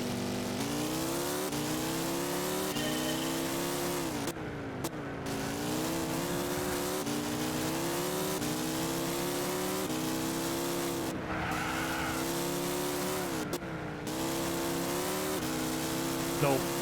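A race car in Gran Turismo 6 revs hard through a turn, its engine note climbing and dropping in loud sustained sweeps with brief gear-change gaps. Someone talks over it now and then.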